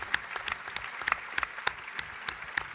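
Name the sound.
audience applause for the rapporteurs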